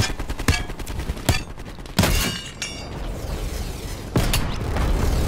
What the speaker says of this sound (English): Oh, he tried shooting me.